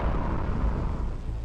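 The Soviet Tsar Bomba, a 30-ton hydrogen bomb, detonates as a deep, sustained low rumbling roar with rolling bass surges and no clear sharp crack, heard alone without voices.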